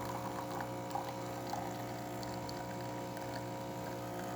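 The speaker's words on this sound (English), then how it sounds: "Here comes the coffee." A Jura coffee machine dispenses a shot of coffee, a quiet, steady pumping hum with a thin trickle running through it and a couple of faint clicks.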